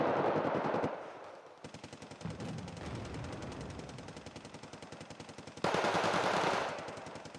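Sustained machine-gun fire from a Bison armored vehicle in the strategy game Wargame, rapid rhythmic bursts running almost continuously with a brief gap and a louder, denser burst near the end.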